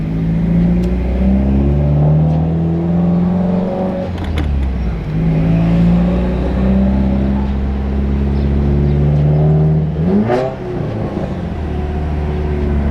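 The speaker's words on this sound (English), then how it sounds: "We're gonna drive a bit, let the ECU learn the downpipe a bit, the new tune." A straight-piped Subaru WRX with a new downpipe and fresh tune cruising on a road, its loud, raspy engine droning steadily with a couple of brief rev changes, close and continuous with no talking.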